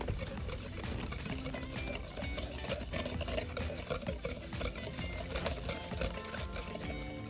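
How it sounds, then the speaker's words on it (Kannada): Coffee powder, sugar and a spoonful of water hand-mixed with a spoon in a bowl, giving a steady stream of close scraping, clinking stir strokes throughout with no talk. "ಈಗ ಸದ್ಯಕ್ಕೆ ನಾನು 1 ಟೇಬಲ್ ಸ್ಪೂನ್ ಹಾಕ್ಕೊಂಡು ಸ್ವಲ್ಪ ಮಿಕ್ಸ್ ಮಾಡ್ತೀನಿ."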